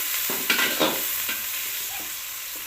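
Chopped onions frying in a pan for khichuri, a steady broadband sizzle with a few brief stirring scrapes in the first second, close and moderately loud with no talking.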